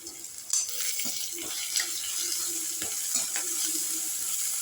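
Ginger garlic paste and green chilies sauté in hot oil for a banana flower biryani, giving a steady close hiss of frying with occasional soft stirring scrapes and no voices.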